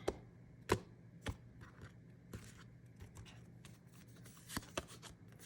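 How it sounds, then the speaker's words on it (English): Tarot cards are shuffled close up in a quiet room, giving a run of soft, irregular riffling snaps and taps with brief pauses between bursts. "give it one more shuffle,"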